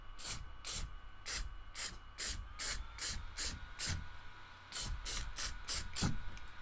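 Aerosol spray can hissing onto a Cricut-cut masked sign, about a dozen short close bursts in steady rhythm, each a bright sharp hiss, with a faint hum underneath.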